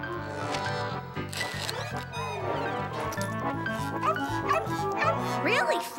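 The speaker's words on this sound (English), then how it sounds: "Really, Fang, it's just a poodle" A cartoon poodle barks in quick, yappy bursts, close and loud, mixed with whimpering yips over a musical soundtrack while voices talk.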